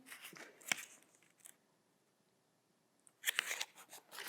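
Paper for a fortune teller craft being folded and creased, with several short crisp crackles and presses near and fairly faint, a quiet gap in the middle, then a louder burst of creasing.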